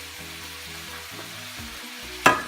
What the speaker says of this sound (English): once the meat gets in the pan, you want to brown it till there's no pink